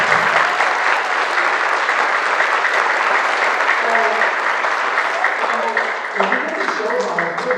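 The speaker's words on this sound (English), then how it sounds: "Can you start off applause, please?" Loud, dense audience applause at a martial arts black belt event, continuous clapping close by throughout, with a few voices and cheers rising near the end.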